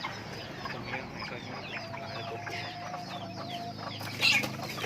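Young cockerels of a Thai fighting breed cluck and squabble in a yard, a busy layered mix of short calls, with a sharper squawk near the end.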